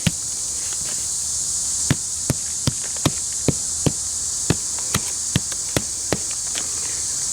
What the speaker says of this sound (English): And I'll hammer that down.